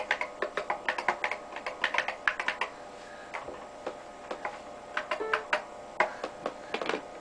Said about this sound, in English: I can still type.